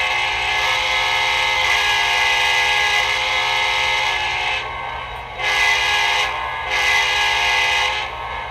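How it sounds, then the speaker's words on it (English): American Flyer KCS SD70ACe diesel model train horn played with a three-chime quilling sound from a Lionel Legacy remote, a loud, steady blast that swells and dips in several sustained pulls over about eight seconds, with no voices. "And here's the horn."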